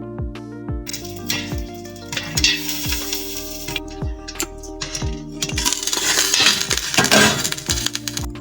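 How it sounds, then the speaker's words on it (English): Popcorn kernels popping inside a covered pot on the stove, irregular sharp pops and clinks against the lid over a steady sizzle of hot oil, growing denser toward the end. "cover the lid and allow to pop"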